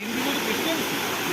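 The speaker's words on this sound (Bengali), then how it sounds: "আর সামনে দিয়ে জল যাচ্ছে" Water rushes steadily at a waterfall on a university excursion in Odisha, a dense continuous wash heard up close with a voice talking over it.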